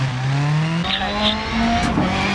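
A Ford Focus WRC rally car in the Dirt Rally racing game runs continuously, its engine note climbing and shifting in pitch, with tyre noise over loose gravel throughout.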